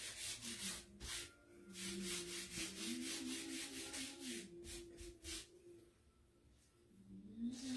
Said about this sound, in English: I'm just going to rub it off so it's not quite so dark.